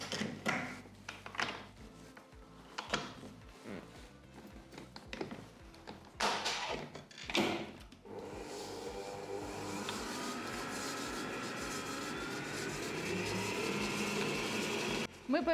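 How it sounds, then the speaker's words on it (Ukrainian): An electric mixer beats softened, room-temperature butter with sugar in a baking bowl. It starts with scattered taps and clatter, then settles into a steady, continuous whirring drone for the second half, with a voice heard at times. "додаємо цукор і починаємо взбивати"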